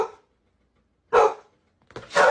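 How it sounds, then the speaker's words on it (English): A dog scared of balloons barks three times, short sharp barks separated by silence, close to the microphone. "My son didn't understand why he was barking"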